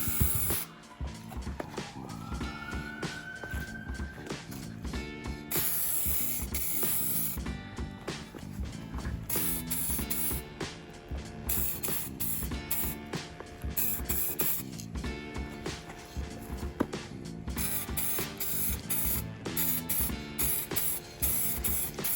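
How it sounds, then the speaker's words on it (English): Spray paint mists over the lettering on a Roban MD-500E 800-size RC helicopter, with close hissing bursts from the can mixed with mechanical rattling and clicking throughout. "easy mist over these letters real quick"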